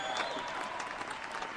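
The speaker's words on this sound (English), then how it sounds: "Some people are actually applauding" Scattered applause from a small audience at a live show, faint and thin, with a steady patter of claps and no voices over it.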